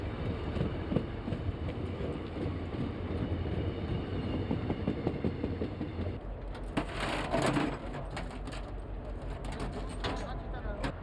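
A train rolls into a Korean railway station at dawn with a steady rumble and clatter of wheels, joined near the end by higher rattling and screeching, while station announcements and voices are heard.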